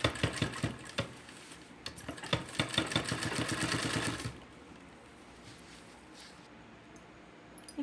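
A sewing machine stitches a cloth shoulder bag in a fast, close, rhythmic run of needle strokes that stops partway through, leaving quiet room tone.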